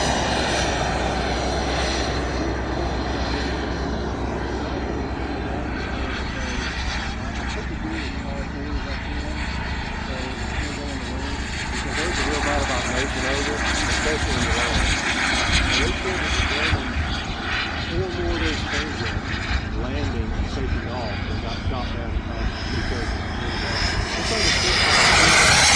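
An RC model T-33 jet taking off, a loud continuous engine roar that swells gradually as it powers up, with people talking over it.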